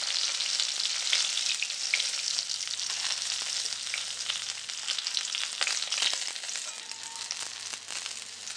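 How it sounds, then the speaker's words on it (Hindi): Green chilies frying in hot oil for a Bengali fish khatti, a steady, close, fairly loud sizzle throughout with small crackles and pops, no talking. "अभी इसी तेल में मैं ये मिर्ची दे रही हूँ।"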